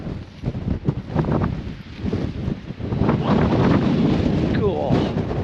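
Strong gusting wind buffets the microphone on an exposed Peak District hillside in wild weather, a loud, rough roar that rises and stays heavy, with someone speaking under it.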